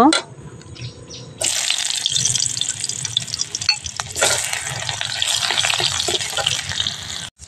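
Chopped onion goes into hot oil with whole cumin; after a quiet start a loud, close, hissing sizzle bursts up and holds steady, with faint clinks of a utensil.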